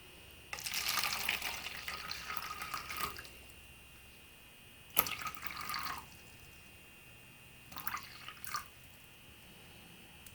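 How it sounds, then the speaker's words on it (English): Water pours in a few separate bursts into vermiculite in an egg tub, splashing and trickling with pauses between each pour, close by with no talking. "Now we're just going to go ahead and add the water into the vermiculite"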